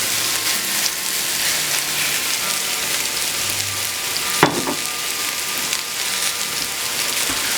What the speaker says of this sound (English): I'm going to add in a pound of mushrooms